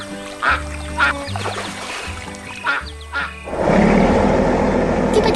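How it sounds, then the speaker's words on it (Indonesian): Cartoon geese on a lake give several separate honking quacks at a steady pace over a music bed, followed by a rushing watery splash near the end. "melihat angsa-angsa yang berenang"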